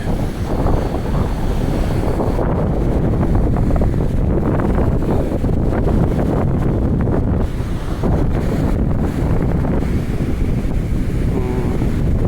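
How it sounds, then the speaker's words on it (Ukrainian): Stormy ocean surf crashes continuously on a coastline under a red-flag hazard warning, with heavy wind buffeting the microphone in a loud, steady roar and no voices. "сьогодні океан штормить."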